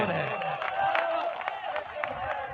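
Audience clapping and cheering at an outdoor mushaira poetry recital, a thin, scattered spatter of claps mixed with a busy crowd hum, steady throughout with no clear peaks.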